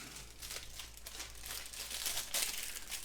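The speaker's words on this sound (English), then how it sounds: "Right, let's peel this off. Will it peel off in one?" Thin plastic film is peeled off a tray of ASDA Essentials curry and chips in one go, producing a continuous close crinkling and crackling with sharper tearing bursts toward the end.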